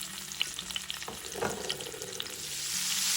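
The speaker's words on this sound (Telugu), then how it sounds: "ఆయిల్ వేడయ్యాక మనం ఇప్పుడు పిండేసుకున్న ఈ కాకరకాయ ముక్కలన్నీ వేసి వేయించుకోవాలి" Pieces of bitter gourd fry in hot oil in a pan, giving a steady close sizzle with stirring clatter and bubbling that grows slightly louder toward the end, without any talking.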